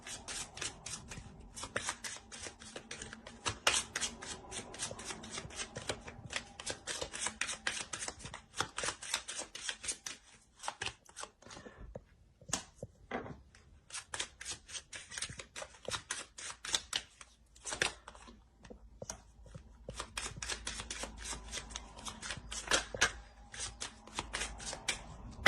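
Tarot cards handled and shuffled close up, with dense bursts of riffling and flicking that pause briefly around the middle before resuming, no voice over them.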